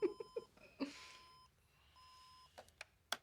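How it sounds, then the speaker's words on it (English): Faint, distant beeps from a smoke alarm sound in short tonal chirps, with some clicks and light background noise. "it's a smoke alarm"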